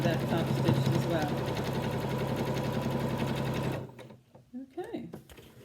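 A sewing machine top stitches a fabric face mask, its steady loud whirring run lasting several seconds before stopping abruptly, followed by brief quieter handling sounds.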